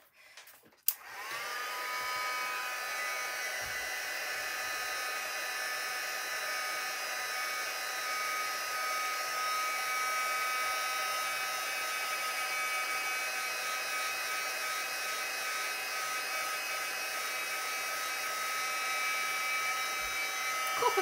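A heat tool blows steadily on a card to set copper embossing powder, a close, continuous whirring hiss that starts abruptly and holds level for about twenty seconds with no talking over it.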